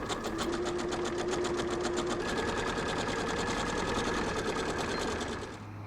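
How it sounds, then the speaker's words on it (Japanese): A sewing machine stitches fabric with a fast, even mechanical chatter, close and steady for several seconds before slowing and stopping at the end, no talking. "中表に合わせてぐるりと縫う。"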